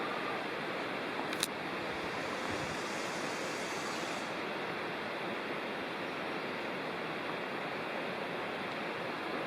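Below a gorge trail in South Cumberland State Park, a creek sends up a constant broad rush of moving water, even and fairly close, with a brief faint click early on.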